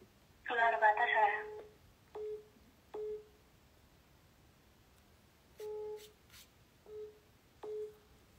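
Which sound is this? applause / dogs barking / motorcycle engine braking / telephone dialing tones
telephone dialing tones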